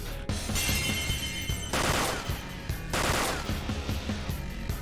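Repeated gunfire bursts from Persona 5 Royal gameplay, loud and dense, with volleys of rapid shots and ringing metallic tails running the whole length without talk.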